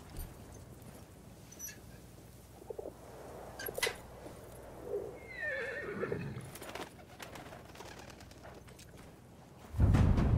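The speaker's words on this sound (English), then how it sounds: "Oh, my horse came to me." A horse in the World War I shooter Battlefield 1 whinnies and snorts nearby amid faint ambient birdsong, with a soft scatter of hoofbeats and a sudden loud rumble at the end.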